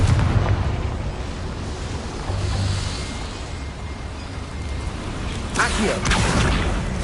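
A Confringo fire spell from Hogwarts Legacy bursts with a deep, rumbling explosion, followed by a sharper crackling blast near the end, all over game ambience.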